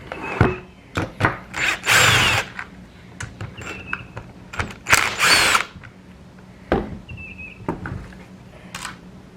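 A power driver takes out the base screws on a Stihl 019T chainsaw during a carburetor swap, whirring in short bursts of varied length with small clicks and handling noises in between, close up.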